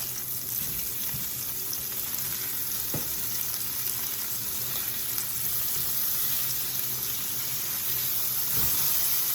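Steady, dense sizzling of burgers frying in a hot pan, continuous and close, with an occasional faint clink.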